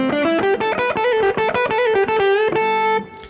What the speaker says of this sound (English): I call it a flutter trill, because it has this kind of sound like this